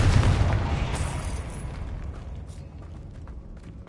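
A Confringo fire spell explodes in the Hogwarts Legacy video game, a loud deep boom that rolls and decays over several seconds into a low rumbling tail, with no voices.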